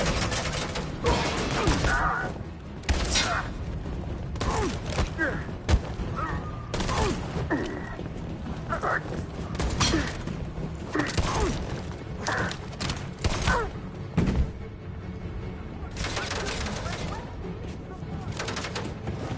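Gunfire in the video game Detroit: Become Human comes as repeated sharp bursts and volleys scattered across a long stretch, some loud and close, mixed with thuds and crashes, with talk and shouting underneath.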